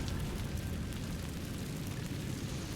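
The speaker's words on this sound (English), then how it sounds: "Incendio! Burn all those webs away." Incendio fire spell in the Hogwarts Legacy video game burning away spider webs in a cave, a steady roaring whoosh of flame that stays loud and dense throughout.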